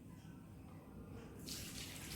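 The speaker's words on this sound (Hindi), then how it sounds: "सुनिए पानी की हल्की आवाज़," Tap water runs steadily over fruit being washed in a sink, a soft continuous splash that grows brighter and fuller partway through, heard alone without talk.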